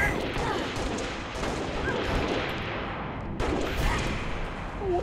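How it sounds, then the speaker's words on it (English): Dense, continuous gunfire in a video game, bursts of shots and booms blending into a steady loud barrage throughout with no clear talk. "See Ray shooting at you, dude"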